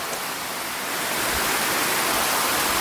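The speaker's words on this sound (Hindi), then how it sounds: "ये देखे पीछे पानी कैसे बह रहा है" Water rushing steadily at Galta Ji temple in Jaipur, a broad continuous wash like a stream or small waterfall close by, growing slightly louder and filling the whole clip with no talk.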